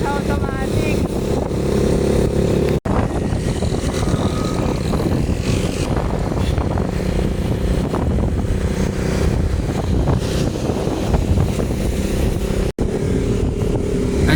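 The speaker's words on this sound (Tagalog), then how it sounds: "ang gamit ko nga palang motor ay Honda Wave" A Honda Wave 100 motorcycle climbs an uphill road at night, its small engine droning steadily and close throughout, with wind rush and brief dropouts in the sound.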